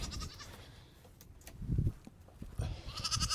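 Goats bleating nearby, several loud calls rising and falling over a noisy outdoor background.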